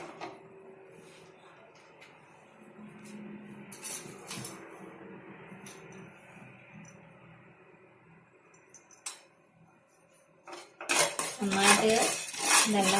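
Whole spices, ending with a small piece of cinnamon, are stirred and heated in a pan for a pepper chicken curry. Soft scraping gives way to a burst of close metal spoon-and-pan clatter near the end.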